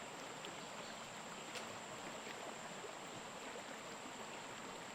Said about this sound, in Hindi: जल का कलकल ध्वनि